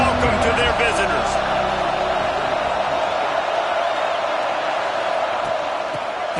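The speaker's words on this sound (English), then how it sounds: "This crowd bringing an ear-splitting welcome to their visitors." Stadium crowd at an NCAA football game roaring loudly in a dense, continuous wash of cheering, with a commentator talking over it at the start.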